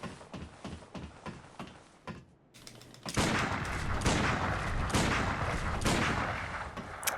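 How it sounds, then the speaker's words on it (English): Rapid repeated gunfire in Bloodborne: a string of sharp shots at first, then a loud, dense burst of continuous blasts and crackling after a brief lull, alone without talk. "if you lock on and just spam shoot, you can kill this guy"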